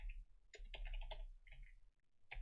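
Fast bursts of typing on a computer keyboard, several quick keystroke clusters with short pauses, close and fairly quiet, while entering JavaScript form code.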